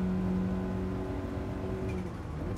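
Lancia Delta rally car in Gran Turismo Sport on PS4, engine droning at a steady pitch with a humming tone that fades slightly toward the end, fairly quiet with no talk over it.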